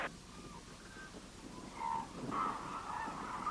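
Cranes at a wintering feeding ground in Izumi, Japan, calling in a flock: several honking, trumpeting calls rising over a noisy outdoor background, moderately distant.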